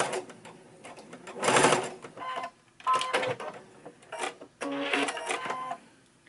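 Sewing machine stitching a nose dart in a fabric face mask, heard in several close bursts of rapid mechanical whirring separated by short pauses.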